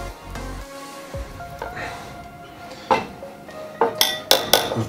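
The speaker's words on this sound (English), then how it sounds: "Let's use the whisk to get that off." A metal whisk scrapes and clinks against a glass holding peanut butter, a series of sharp clanks and rattling taps that grow louder and more rapid toward the end, close up with no talking.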